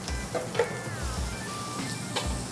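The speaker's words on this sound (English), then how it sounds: "You can go ahead and add the celery and the onions." Diced celery and onions sizzle in melted butter in a pan, a steady frying hiss broken by a few spoon scrapes and clinks against the pan.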